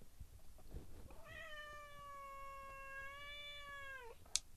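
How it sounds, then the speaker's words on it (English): A cat on a boat gives one long, drawn-out meow close by, ending in a short rise, followed by a small sharp noise. "Sorry for my cat interruption there."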